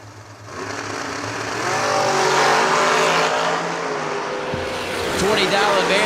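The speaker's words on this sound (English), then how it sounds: "Got Taylor Cook in at 468, the M&M chassis dragster on the left-hand side" An M&M chassis dragster races down a drag strip, its engine roaring loud and rising in pitch as it accelerates, with an announcer talking over it.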